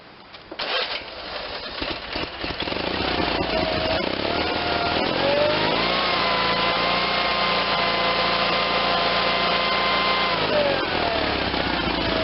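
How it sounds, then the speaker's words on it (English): A small Briggs and Stratton gasoline engine is pulled to life and then runs over-revving at a high, steady, screaming rev, loud and close, with no talking. "it sounds like it's over revving to me"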